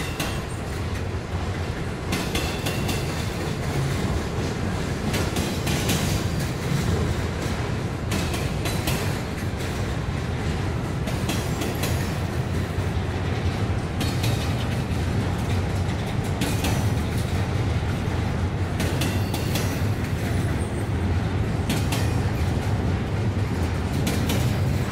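A freight train led by a BNSF or CP locomotive rolls past nearby, with a loud, continuous rumble and repeated clattering wheel beats on the rails.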